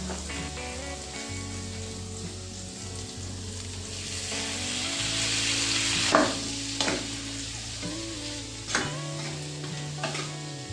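Potato and pineapple fry in a pan, a steady sizzle broken by scraping stirs, with a few sharper clatters from the utensil near the end.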